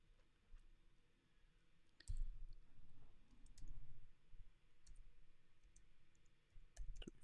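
Light clicks of a computer keyboard as a number is typed in, sparse taps scattered over a quiet room with low background murmur and a few louder thumps.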